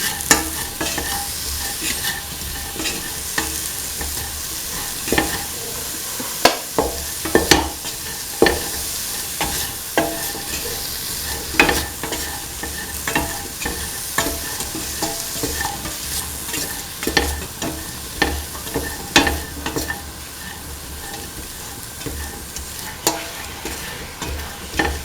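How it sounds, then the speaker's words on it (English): Salt being stirred through a mung bean and ivy gourd stew with coconut milk, with steady scraping and clacking strokes over a low simmering sizzle, continuous and close, no voices. "mix thoroughly, mix in the salt with the rest of the mixture"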